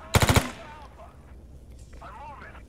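Burst of rapid gunfire in the video game S.T.A.L.K.E.R. GAMMA, four loud close shots in quick succession at the start, followed by quieter background game ambience with faint murmuring.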